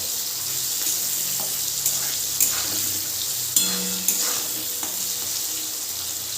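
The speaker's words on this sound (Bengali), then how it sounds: "এভাবে আরেকটু ভেজে নেব আমি।" Malabar spinach stalks frying in a pan with a little turmeric and salt, giving a steady, close sizzle with a few soft stirring clinks and scrapes.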